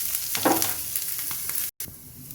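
Onions and green chilies sauté in hot oil in a pan, a steady close sizzle with stirring scrapes and a brief gap near the end.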